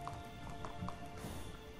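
Horse hooves at the water's edge in the video game Animallica: a few faint, irregular clip-clop steps, quiet and close, over a low background hum with no talking.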